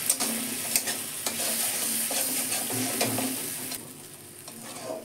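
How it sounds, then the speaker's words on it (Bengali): Whisked sour yogurt being stirred and fried with spices in hot oil, a close, continuous sizzle broken by several soft scraping stirs and taps of the spoon, quieting slightly toward the end, with no talking. "টক দইটা একটু কষে নেব।"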